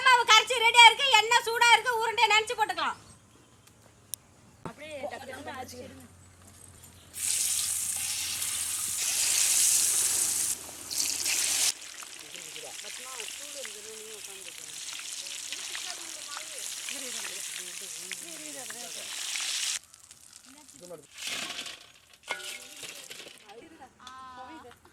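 Mutton potato bonda balls dropped into hot oil in a village kitchen, a loud bright sizzle and crackle that bursts up and then settles into steady frying, with voices talking before and after.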